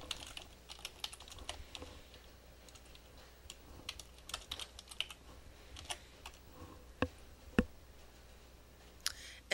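Keyboard keys are tapped at a computer while entering data into a spreadsheet, producing quiet, close, irregular clicks in uneven bursts against a faint background hum.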